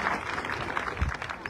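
Villagers at an opening speech for the Taşdemir village association clap together in dense, steady applause, a continuous wash of hand claps at moderate loudness with no voices standing out.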